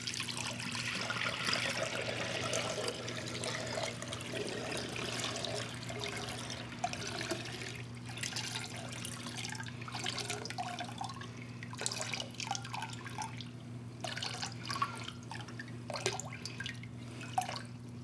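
Water trickles and drips steadily as it drains out of the center core of a diesel air heater intercooler, with sloshing splashes over a constant low mechanical hum, close and continuous.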